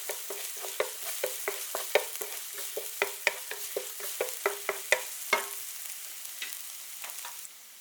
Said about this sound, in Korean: 타지 않게 약불로 살살 볶아주세요